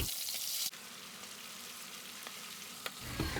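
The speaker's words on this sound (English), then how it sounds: "after all the drumsticks are stuffed, we can start frying them just like we did with the lamb." Stuffed chicken drumsticks fry in oil with a soft, even sizzle and crackle, preceded by a louder burst of spitting at the start and a few small pops, with no speech.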